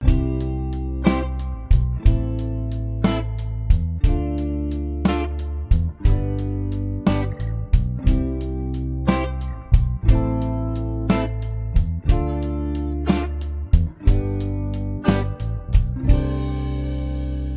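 A drum kit plays a repeating 6/8 groove, with steady kick and snare hits cycling evenly and a cymbal ringing out at the end.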